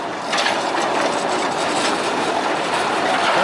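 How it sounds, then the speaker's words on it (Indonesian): Hokuriku locomotive No. 4 of the PG Semboro sugar mill crossing a bridge, a loud steady rumble and clatter of rail wheels that holds constant throughout, close by and with no voices. "lokomotif Hokuriku nomor 4 melewati"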